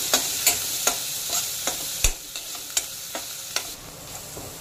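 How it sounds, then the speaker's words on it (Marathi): Green chillies for a Mumbai-style vada pav filling being sautéed in a pan, with a loud, steady frying sizzle. A spoon scrapes against the metal in regular sharp strokes roughly every half second throughout. "हे व्यवस्थित परतायचं आहे।"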